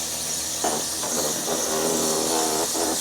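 A portable pressure washer with a 3.4 gallon tank sprays a never-washed van engine, a loud, steady hissing jet with its motor droning underneath, broken by short surges as the spray shifts.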